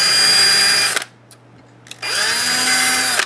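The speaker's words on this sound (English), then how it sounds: "we'll just drill out these two holes" A handheld power drill bores mounting holes for a connector in two close bursts of high whining spin, the first about a second long and the second about a second and a half, with a brief quiet pause between them.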